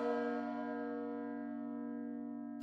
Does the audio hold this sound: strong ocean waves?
no